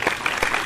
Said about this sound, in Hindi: पहले तो जियो के लिए एक बार जोरदार तालियां हो जाए।